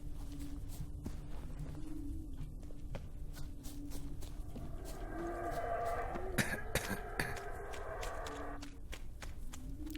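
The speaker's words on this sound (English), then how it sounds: "I like the subtitles for Geralt's coughing." Geralt of Rivia coughs in The Witcher 3 with a few short, rough bursts near the middle, set against steady game ambience and footsteps.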